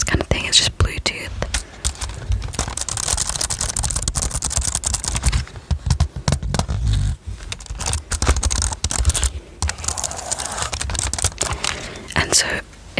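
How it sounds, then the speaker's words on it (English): Fingers tap on a small magnetic Bluetooth keyboard held in a tablet case, giving close, crisp clicks in quick irregular bursts with short gaps, alongside soft whispering. "This case has a little keyboard. It's just magnetic and it just like sits in the case kind of thing."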